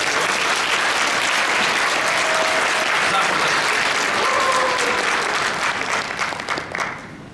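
Loud, sustained applause from a large audience at a student retreat gathering, dense clapping that holds steady before tapering slightly at the end, with a faint murmur of voices underneath.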